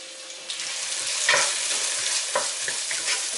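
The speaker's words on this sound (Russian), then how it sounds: "Репчатый лук обжариваю до мягкости." Steady crackling sizzle of onions frying in vegetable oil until soft, with occasional scrapes of a spatula stirring the pan, close and continuous.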